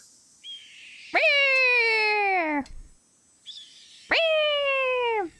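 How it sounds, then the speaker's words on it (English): A red-tailed hawk call is played from a bird recording in a Nancy Drew game: two long, harsh descending screams, each about a second and a half, loud and close with a pause between. "Red-tailed hawk."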